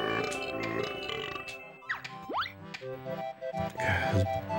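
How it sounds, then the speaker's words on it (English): A pirate character in the Banjo-Kazooie video game lets out a bubbly, gurgling burp over looping game music, a short loud belch in the middle of the passage with a few popping blips around it. "Burping pirate man."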